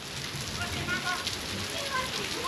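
Rain falls after a spell of intense heat, a steady, close patter on surfaces with soft voices murmuring faintly underneath.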